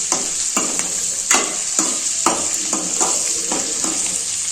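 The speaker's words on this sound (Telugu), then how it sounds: "ఇంకొకసారి దీన్ని అయితే ఫ్రై చేసుకోవాలండి" Onion paste fries in a pan for egg and chicken biryani, a steady bright sizzle with repeated scraping stirs at a slow, regular rhythm, close and fairly loud.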